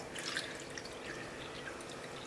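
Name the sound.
water being poured into a pan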